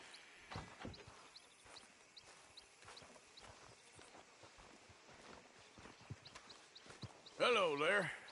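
A horse in Red Dead Redemption 2 clip-clops slowly to a stop as it is hitched, soft hoof steps under a man's speech, ending in a louder snort or whinny.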